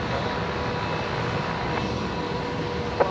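An Air New Zealand Boeing 787-9 starting to taxi at Brisbane International Airport, a steady distant jet engine rumble and whine with one brief click near the end, no talk.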